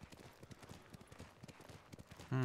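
Horse hooves clip-clopping in the video game Ghost of Tsushima, a steady rhythmic trot of many hoofbeats close by, followed by a sudden loud burst of game sound at the end.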